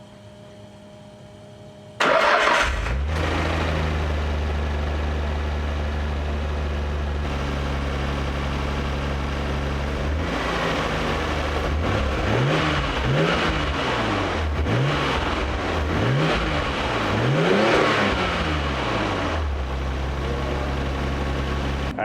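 A Nissan Skyline GT-R R33 V-spec fitted with an Apexi Power Intake cranks and fires up, settles into a loud steady idle, then gets a series of rhythmic throttle blips, each revving up and falling back, before returning to idle.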